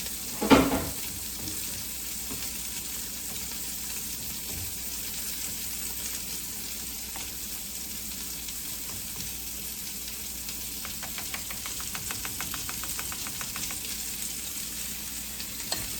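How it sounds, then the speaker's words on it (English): Food stirred in a covered cooking pot during a quick home meal, with a steady close sizzle throughout, a sharp clatter at the start and light rhythmic scraping toward the end, no talking. "We're going to stir these up."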